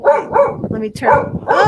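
A dog barks in a string of sharp, close barks at home, loud and overlapping with a person talking.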